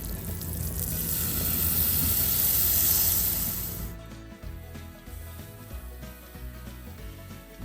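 Masala paste for a Maharashtrian Chonak fish curry sizzles loudly in a pan over medium heat, a dense hissing fry for about four seconds that then drops to a quieter, fainter crackle.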